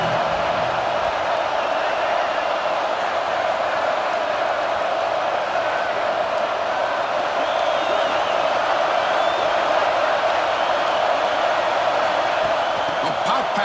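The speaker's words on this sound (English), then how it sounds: "And the crowd coming to life here, trying to help this defense down in the red zone." A football stadium crowd roars steadily to help the defense down in the red zone, a dense, continuous wall of cheering and noise that stays loud throughout with no clear breaks.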